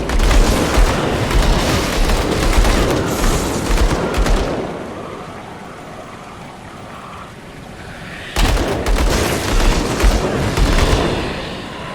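Loud bursts of gunfire come from guns in the Xbox action game Grim Dawn, forming dense booming fusillades that stop for a few seconds and then start again.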